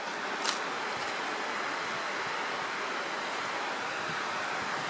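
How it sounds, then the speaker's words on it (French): A low river runs near waterfalls in a steady, broad rushing wash with no breaks, moderately distant and alone, with one faint brief tick near the start. "Et la rivière est basse."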